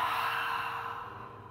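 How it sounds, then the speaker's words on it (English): A single long, breathy exhale drawn out after a deep inhale during a mindfulness breathing exercise, close and soft, gently fading over a second and a half. "take a deep breath in. Extend your exhale."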